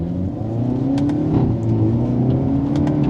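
A Hyundai Elantra N sport sedan with a dual-clutch gearbox accelerates hard, its engine note rising steadily and loud throughout, heard up close with a continuous revving drone.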